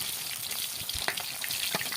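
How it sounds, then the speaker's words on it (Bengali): Steady hissing and crackling sizzle of tilapia fish frying in hot oil, with occasional sharper pops, close and continuous. "মাছগুলো এইভাবে এক এক করে ভেজে নিচ্ছি"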